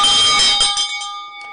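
A bell struck once, ringing loudly and close with a bright metallic tone that decays over about a second, with no voices present.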